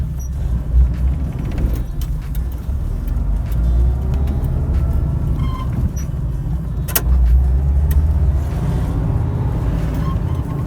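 A 1962 Chevrolet Corvair Monza 900 cruising along a road, a steady low engine rumble and road noise with faint rattles, heard from inside.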